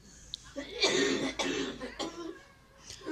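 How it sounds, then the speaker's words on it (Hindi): An elderly woman coughs several times in quick bursts, close by, with a short pause between fits. "आमा को खांसी रुक नहीं जा रही"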